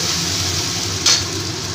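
A ground spice paste fries in a pan for a chana dal pickle-style curry, giving a steady close sizzle with one brief scrape of stirring partway through.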